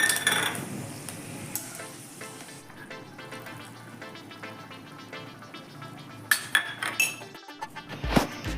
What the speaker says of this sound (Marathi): आता तशी लवंग आणि मिरी मी तेलामध्ये चांगले तळून घेत आहे